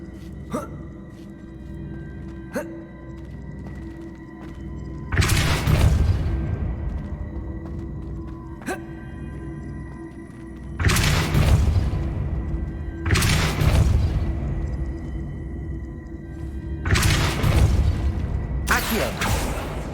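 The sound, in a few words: Depulso spell cast in Hogwarts Legacy video game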